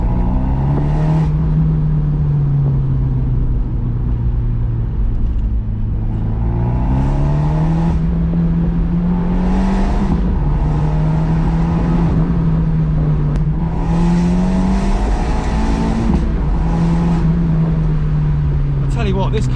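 Abarth 124 Spider with a Monza exhaust, driven with the roof down, its engine note loud and close. The exhaust rises and falls through repeated revs and gear changes for the whole stretch, with a voice talking over the top.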